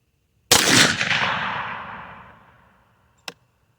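A single sharp rifle shot from a 22 TCM firing a 45-grain V-Max load, a loud crack trailing off into a long decaying echo, followed by a faint metallic click about three seconds later.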